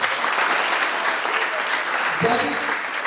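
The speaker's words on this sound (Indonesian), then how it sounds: "Tepuk tangan dulu." Group of campers at an Easter youth camp session clapping together in steady, dense applause that fills the whole stretch, with a brief voice breaking through near the end.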